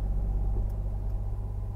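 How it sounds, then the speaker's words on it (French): Car interior while driving to work at night, a steady low engine and road rumble dominating the cabin, constant and close with no speech. "moi j'enregistre dans la bagnole pendant que je vais bosser"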